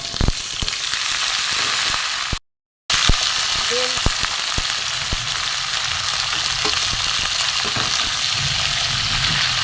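Mixed winter vegetables for a vegetarian curry (pumpkin, potato, eggplant, cauliflower, carrot) fry in a pan with a steady, loud sizzle, broken by occasional stirring clinks and a brief dropout.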